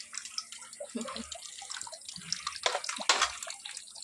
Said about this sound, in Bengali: তো কটা বাসন মাজবো, মেজে তারপরে ঘুমাতে যাবো